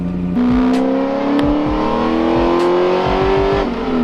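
A loud, close-up V8 engine of a 2004 Corvette C5, modified with new heads, cam and intake, revs and pulls hard, its pitch climbing steadily with brief gear-change dips and throaty rumble.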